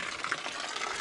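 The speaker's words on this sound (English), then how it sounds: "right here, we're draining the water because this cooler is probably 300 pounds with all the water in it" Water gushing steadily out of a large cooler as it drains outdoors, a continuous splashing rush at moderate level without pause.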